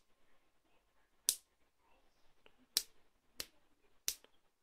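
Finger snaps aimed at a homemade clap switch, four sharp, isolated snaps spaced irregularly over quiet room tone with faint background murmur.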